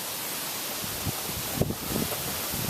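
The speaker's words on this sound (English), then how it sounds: "Very, very windy." Strong Hurricane Irene wind in Newport News roars steadily and broadly, with faint gusting swells and no voices.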